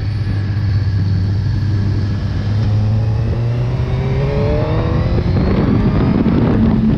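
A Suzuki SRAD 1000 R sport motorcycle is ridden at speed, its engine droning steadily with rising revs and strong wind rush close to the rider, no voices.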